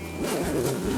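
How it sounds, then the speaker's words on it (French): A 10 mm reinforced zipper on the groundsheet of a Prologic Commander Oval Umbrella fishing shelter is pulled in one continuous close rasp lasting about a second, with no talking. "simplement à l'aide d'une fermeture éclair, elle aussi renforcée de 10 mm"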